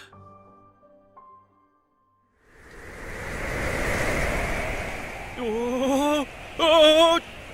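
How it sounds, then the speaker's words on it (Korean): A strong wind sound effect for a children's Sunday worship Bible story swells into a loud, steady rushing roar after a quiet start, and a voice cries out over it near the end. "이렇게 큰 바람이!"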